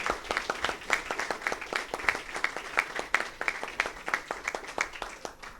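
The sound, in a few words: audience applause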